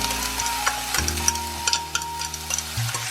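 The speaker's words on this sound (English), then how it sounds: "Put the ginger and scallion into the pan." Minced ginger and scallion hitting hot cooking oil in a pan, a close, steady sizzle with light crackles and faint stirring scrapes, no talking.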